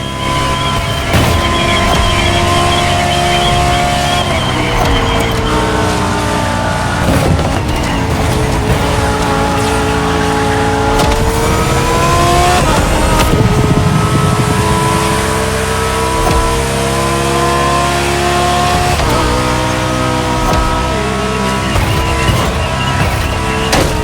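Lamborghini Huracan Liberty Walk in the racing game The Crew Motorfest, engine revving loud and close with repeated rising and falling gear sweeps and some tire squeal.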